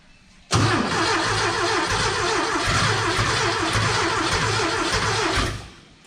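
A 2-liter Porsche 914 engine cranks and catches, then runs loud and close at a steady, slightly uneven idle for about five seconds before cutting off.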